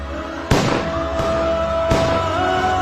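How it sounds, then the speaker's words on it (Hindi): Gunfire sound effect in a film: three sharp, loud shots spaced about two-thirds of a second apart, each a sudden crack with a ringing tail, over a steady background and no speech. "कार सेवकों पर गोलियां चली।"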